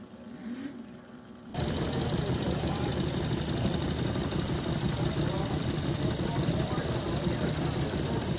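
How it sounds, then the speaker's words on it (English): A small model engine at a model engineering expo starts up after a short quiet moment and then runs steadily at a fast, buzzing idle, loud and close throughout. "This is a masterful execution of a smaller version of that same engine."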